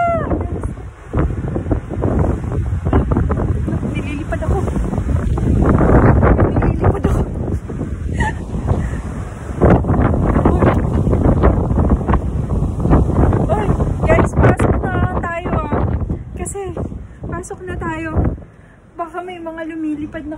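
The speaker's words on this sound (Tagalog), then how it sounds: "ang lakas ng hangin" Strong wind roars and gusts against the microphone throughout in Norway, with people talking loudly over the rushing noise.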